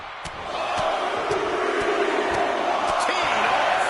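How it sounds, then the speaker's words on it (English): A large live wrestling crowd roars in a steady, loud, sustained wall of cheering that swells slightly early on, with commentary voices faintly under the din. "This crowd is thunderous right now."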